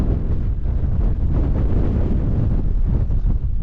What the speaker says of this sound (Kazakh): Мықты қатты жел күн.